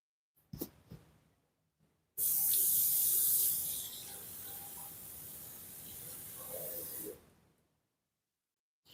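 Water gushes steadily from a household tap for about five seconds as a towel is wetted, a loud broadband hiss that starts abruptly, softens slightly midway and cuts off.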